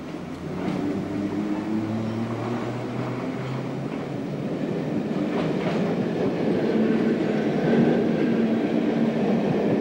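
A London Underground Bakerloo line 1938 stock train running, a steady rumbling roar with faint rhythmic clatter from the wheels that stays fairly constant throughout.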